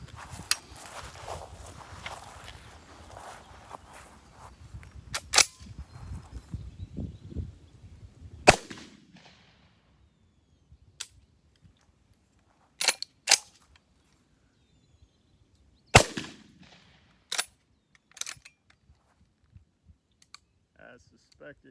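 A VR80 semi-automatic shotgun fitted with the wrong gas piston fires a run of loud, sharp shots, the early ones dense and rapid, the later ones spaced out as single reports with quiet gaps between them.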